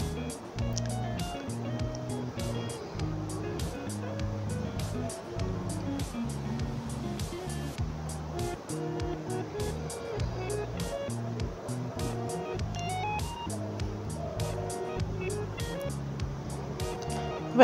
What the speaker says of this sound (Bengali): এবার আমি এর মধ্যে কেটে রাখা আলুগুলো ভেজে নেব।